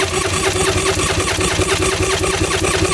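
A jet ski engine cranks with the throttle held wide open during a cylinder compression check, giving a loud, steady, rhythmic churning that runs throughout with no voices.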